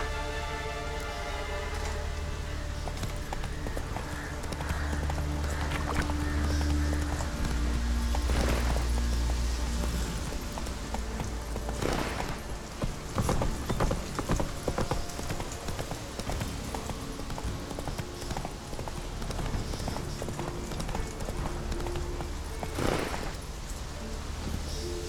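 A horse in the Witcher 3 video game gallops with quick, steady hoofbeats. Rain patters in the background and music plays under the scene.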